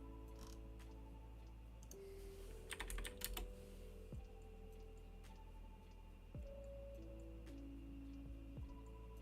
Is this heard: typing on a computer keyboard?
yes